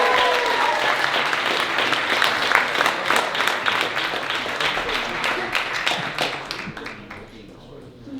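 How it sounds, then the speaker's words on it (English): A comedy club audience at Gotham applauding a comedian coming on stage, a dense burst of clapping and cheering that slowly thins out, with a voice heard over it. "Make a lot of noise for Anthony Sims."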